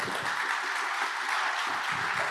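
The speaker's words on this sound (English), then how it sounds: "Another round of applause." An audience claps after a presentation on risk-based budgeting for water and wastewater assets, producing a steady, even wash of applause across the whole moment, moderately quiet and somewhat distant.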